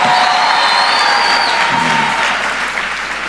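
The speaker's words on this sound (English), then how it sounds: "Let's give the Lord another big round of applause for them." Loud, steady applause fills a church as the congregation claps for the choir, dense and sustained with a faint crowd murmur and light cheering underneath, fading slightly toward the end.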